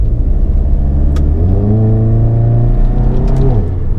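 A turbocharged Stage 2 MK7 Volkswagen GTI with a DSG gearbox revs hard and climbs in pitch as it accelerates, loud and close, with a brief lift near the end before pulling on.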